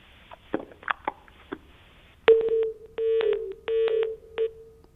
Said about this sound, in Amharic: ስልኩ ተቋረጠ።